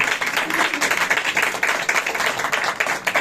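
A worship congregation claps during a Hindi-language sermon, rapid uneven claps building into a moderately loud, fluttering patter that keeps going with slight swells.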